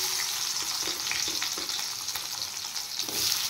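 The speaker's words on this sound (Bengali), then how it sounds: "পেঁয়াজটা আমি হালকা ফ্রাই করে নেব।" Onions frying lightly in a pan during a paneer and jeera rice cooking session: a steady, close, continuous sizzle and crackle with occasional soft stirring scrapes, no voices.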